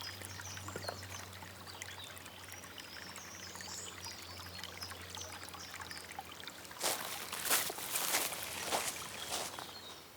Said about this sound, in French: l'eau court entre les 4 jardins